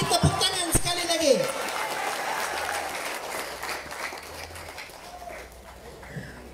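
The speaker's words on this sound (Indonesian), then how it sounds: "Bagi tepuk tangan sekali lagi." Crowd applause at a political rally in Beluran, Malaysia: steady clapping from many people, moderately loud and sustained, with a few tonal sounds and faint voices near the beginning.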